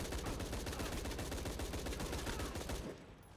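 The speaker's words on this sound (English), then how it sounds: "Oh, you want to shoot at me with a machine gun, huh?" A machine gun fires in a shooter video game as a rapid, evenly spaced burst of shots lasting almost three seconds. The burst then cuts off to quieter background.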